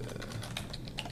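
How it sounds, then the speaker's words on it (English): Typing an email on a computer keyboard, a brisk irregular patter of close key clicks over a steady background hum, with no talk. "Typing your email"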